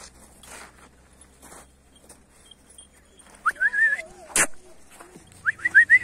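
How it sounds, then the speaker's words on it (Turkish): Dogs outdoors at a neighbour's place give a few short whimpers and yelps, close and moderately loud, after a quiet stretch with faint background voices and one sharp knock. "Orada da köpekler var arkadaşlar."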